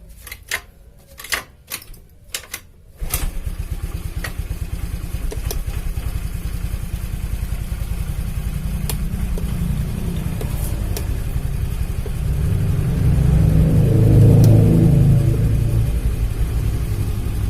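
A few sharp mechanical clacks of a kick-start on a Honda Vario 110 scooter with a dead battery, then the engine catches and runs with a steady rapid chug, revving up briefly before settling.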